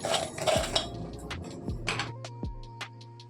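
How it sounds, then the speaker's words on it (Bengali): Crisp fried papdi shaken on a plate for a papdi chaat, giving a few short brittle rattles and clinks in quick bursts, close and fairly quiet, no talk. "শুনতে পেলেন পাপড়ি চাটের কীভাবে খাস্তা হয়েছে, আমি নড়িয়ে দেখিয়ে দিলাম।"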